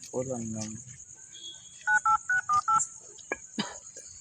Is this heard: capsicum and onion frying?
no